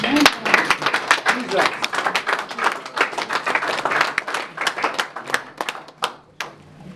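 A church congregation applauds the Lord during a charismatic prophetic service, with dense rhythmic clapping from many hands close by, continuous and lively, tapering near the end, with voices mixed in.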